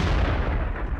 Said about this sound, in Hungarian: Első lövés. Lepattam.